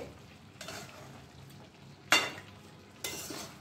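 Chicken cooking in spiced onions is stirred in a pan, a low simmering sizzle broken by three separate bursts of spoon scraping, the middle one loudest, with no talk.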